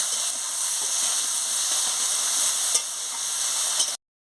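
Spiny gourd with salt and turmeric sautéing in a pan, giving a loud, steady close-up sizzle and hiss with a few faint stirring scrapes, then a sudden cut to silence near the end.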